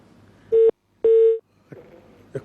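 Telephone line tone cutting in after a caller drops off a live phone-in dream interpretation show: two loud steady beeps, a short one then a longer one, followed by faint low line noise.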